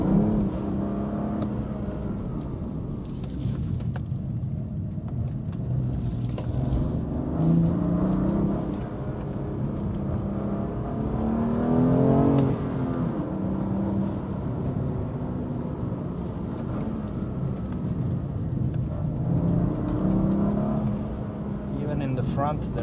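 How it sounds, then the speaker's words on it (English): A BMW M2 Competition (F87) spins its worn, grip-less tyres on a night rally road, engine droning and rising steadily throughout while someone talks over it. "So wheel spinning all the way with these tires that are so finished."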